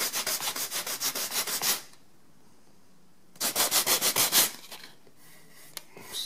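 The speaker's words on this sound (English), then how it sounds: "All right, with the sanding block, 80 grit" Hand sanding of wooden crown molding with an 80-grit sanding block: two close, loud bursts of quick rhythmic back-and-forth rasping strokes, separated by a quiet pause, with a few faint scrapes near the end.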